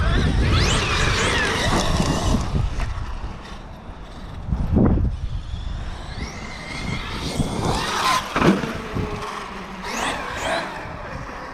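Traxxas X-Maxx RC truck driving outdoors, its electric motor whining and rising in pitch in several bursts, with tires scrabbling and rattling over rough ground at varying distance.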